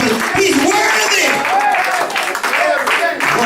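Church congregation clapping in praise during a Sunday service, a steady wash of many hands applauding at close range with voices and singing mixed in throughout.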